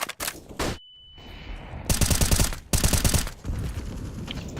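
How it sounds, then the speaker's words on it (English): A flashbang grenade thrown in a video game, amid loud bursts of rapid automatic gunfire, with a sudden drop to a thin, steady high ringing tone before the shooting resumes. "Throwing flashbang"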